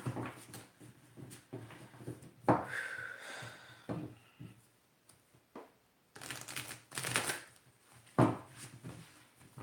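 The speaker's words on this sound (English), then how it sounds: "I'm shuffling." Tarot cards are shuffled by hand in a series of soft riffling and tapping bursts with brief pauses between them, fairly close and moderately quiet.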